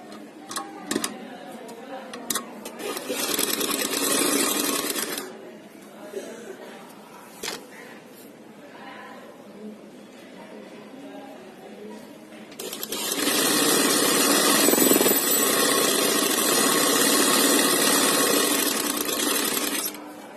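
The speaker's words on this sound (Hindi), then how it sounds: "और इसको ऐसे रखेंगे उल्टा और यहाँ से सिलाई लगाएंगे।" Sewing machine stitching fabric for a poncho, running in two long bursts of fast, steady mechanical whirring with rapid needle ticking, separated by quieter stretches of clicks and handling noise; a voice speaks in the pauses.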